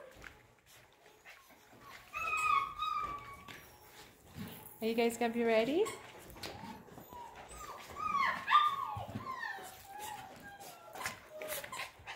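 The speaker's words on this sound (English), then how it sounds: "F1B Mini Burner Doodle puppies" Nine-week-old F1B mini Bernedoodle puppies whimper and yip in high, wavering cries indoors, close and fairly faint, mixed with someone talking to them.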